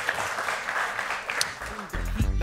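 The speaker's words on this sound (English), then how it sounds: "Another round of applause for the debaters, please" Short applause for debaters at a live debate show, loud scattered clapping that gives way to a speaking voice near the end.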